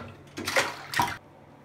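Water sloshes and splashes in a home bathtub as children play, two quick bursts of splashing close by, with a quiet gap between them and no talking.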